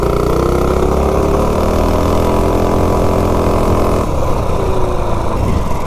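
Quad with a Predator 212 engine and super low gearing running steadily, a loud continuous small-engine drone with shifting harmonics, close and alone without talk.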